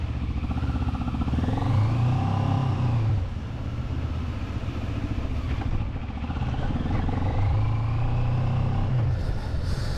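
A Moto Morini X-Cape 650 motorcycle being ridden gives a steady engine drone with two rising rev swells, loud and continuous under road and wind noise.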